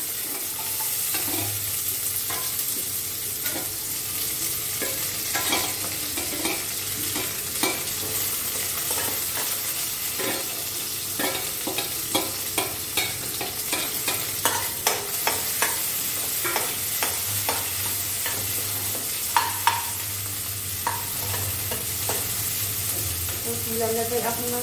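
Onion, chili and garlic frying in a pan, a steady close sizzle broken by repeated clanking stirs of a spoon against the pan, with someone speaking briefly.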